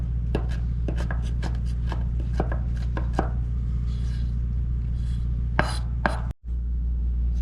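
A knife chops bamboo shoots aboard a boat, giving crisp, close strikes on the board, quick at first and then sparser, with a few softer scraping passes over a constant low engine-like hum.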